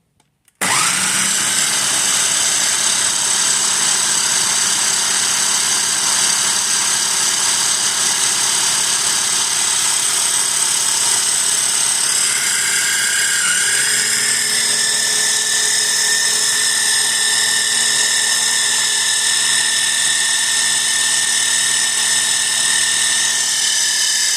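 A Westpoint electric kitchen chopper starts up and runs loud and close, a steady high-pitched motor whine that holds for over twenty seconds, with the pitch shifting partway through as the load changes.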